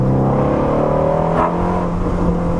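A 2020 Shelby GT350 V8 engine pulls hard under acceleration, its loud, steady harmonic roar rising in pitch with a brief shift blip midway, heard up close from inside the car with no talk.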